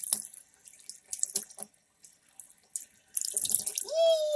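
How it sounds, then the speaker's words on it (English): Tap water runs into a bath where soap is being added, a steady splashing gush that starts and stops in bursts, with a clear pouring stream rising in pitch as the tub fills near the end. "So first thing first, let's put some water."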